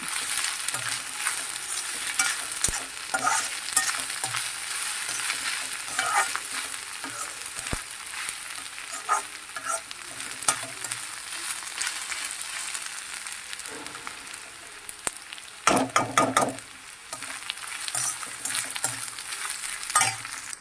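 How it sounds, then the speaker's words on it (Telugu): Carrot and cabbage stir-fried on a high flame for street-style veg noodles, a steady loud sizzle broken by repeated scraping stirs of the pan, with a busier burst of tossing near the end and no talking. "కాబట్టి హై ఫ్లేమ్లో పెట్టేసి ఇలా ఫ్రై చేసుకోవాలి."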